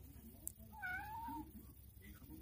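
A cat meows once, a clear drawn-out mew rising and falling, close and moderately loud over a quiet room background.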